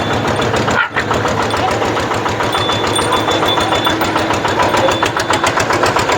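A modified walking tractor with a newly fitted engine, new seals and a new drive belt runs steadily at idle close by, loud and continuous with a fast even chugging pulse.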